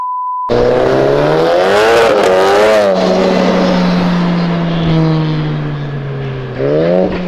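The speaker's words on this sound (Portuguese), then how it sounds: "Sem dúvida, o GTI mais bonito já." A Volkswagen GTI drag car launches with a loud rising rev, shifts, and pulls away as the engine note sweeps up and down, then revs sharply again near the end, preceded by a brief steady tone.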